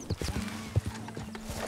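Horse hooves clip-clop steadily in the video game Red Dead Redemption 2, a close, even rhythm of thuds over a low steady hum.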